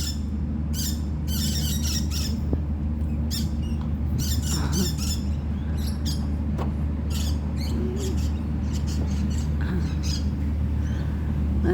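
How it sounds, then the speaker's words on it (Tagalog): Birds squawk and chatter in rapid bursts from a tree overhead, fairly close, above a steady low hum of a parked car idling beneath it. "Ang ingay ng ibon."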